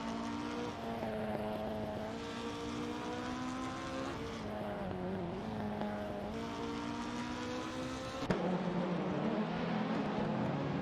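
AI-driven race cars in a BTCC Speedway racing video game whine along in a continuous engine drone, pitch rising and falling through gear changes, with a sharp shift to a different engine note partway through and no talk.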